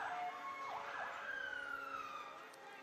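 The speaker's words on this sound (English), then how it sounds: "I think they need louder sirens." Police car sirens wail and sweep in pitch at a Christmas parade in Lincolnton, somewhat distant and moderately faint over outdoor crowd ambience.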